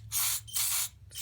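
Carburetor cleaner sprayed through a straw nozzle into the shaft of a 2005 Honda CRF230F carburetor: two long, loud hissing bursts and the start of a third, close up, over a low engine-like hum.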